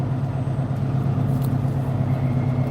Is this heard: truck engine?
yes